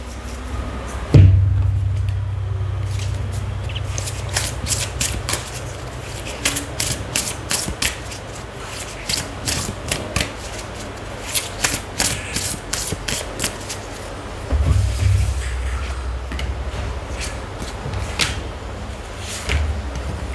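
Tarot guidance cards are shuffled by hand, giving close, crisp bursts of rapid papery riffling clicks that repeat over about twenty seconds over a low steady background hum, with no talking.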